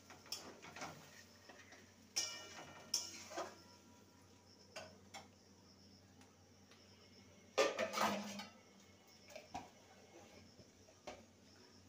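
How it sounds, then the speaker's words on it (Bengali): A lid set on a cooking pot during the making of a vegetarian gathi kochu curry, a few sharp metallic clinks and clatters at close range in a quiet kitchen. "ঢাকা দিয়ে দিলাম।"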